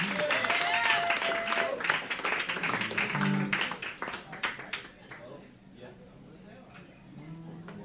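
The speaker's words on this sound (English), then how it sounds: "Big round of applause for you guys coming to the show." A live show audience claps and cheers loudly, the applause swelling then tapering off, with a host speaking over the fading claps.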